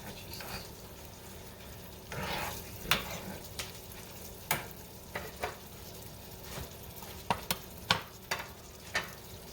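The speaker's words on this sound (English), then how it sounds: "Stir it." Food sizzling steadily in a frying pan as a utensil stirs it, a constant frying hiss broken by repeated sharp scrapes and clicks against the pan, close-up with no talking.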